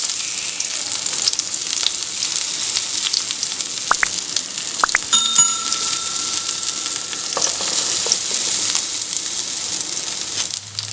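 Homemade snacks deep-frying in hot oil until crispy, a steady bright sizzle with dense bubbling crackle and a few clinks of a utensil, close and with no talk.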